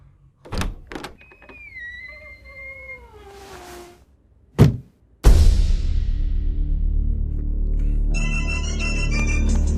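Near the end, a phone ringtone begins to play, a looping electronic melody sitting under dense background noise. It follows earlier bursts of door sounds and a wavering, meow-like tone.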